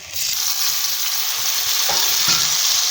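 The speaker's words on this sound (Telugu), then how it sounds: "సౌడాలు అయితే నూనెలో మంచిగా వేగినాయి ఫ్రెండ్స్. ఇప్పుడు టమాటా వక్కలు వేసుకుంటున్నా." Tomato pieces frying in hot oil with fried dried beans while being stirred, a loud continuous sizzle with scraping stirring strokes through the middle, no voices.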